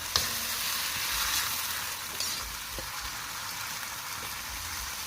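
Kamias fruit sautés in a pan, giving a steady crackling sizzle up close with a couple of brief utensil clicks and light stirring, no talking.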